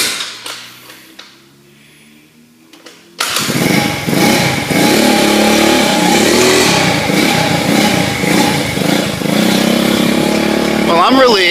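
A Jawa Super Scoot scooter engine, cold and with a faulty electric choke, bursts into a loud, close revving after a few quiet seconds and keeps running hard and uneven to the end, with a person speaking.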